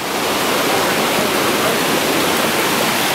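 River rapids rush in a loud, steady broadband roar of churning water near a waterfall, continuous and close with no break.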